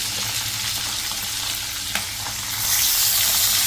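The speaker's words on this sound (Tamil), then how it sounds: "எண்ணெய், வரமிளகா, வெங்காயம், தக்காளி நல்லா வதக்கி விடுங்க" Dried red chilies, onion and tomato frying in hot oil, a steady loud sizzle that swells brighter near the end with a single utensil knock.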